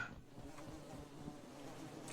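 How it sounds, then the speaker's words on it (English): Faint, steady insect buzzing like wasps or flies plays in the video game Fear and Hunger 2: Termina, a continuous low drone with no talk. "You hear the sound of wasp or flies somewhere."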